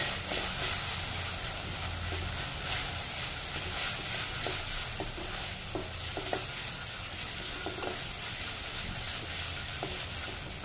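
Salt, turmeric and red chili powder sizzle and fry in a pan while being stirred for potol dorma, a dense continuous crackling hiss with occasional scraping stir strokes, close and alone.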